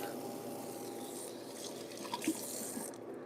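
Tap water runs steadily over raw lamb chops being rinsed in a sink, a soft continuous splashing with a few small drips and knocks, fairly faint.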